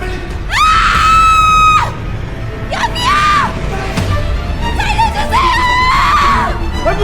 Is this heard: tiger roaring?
no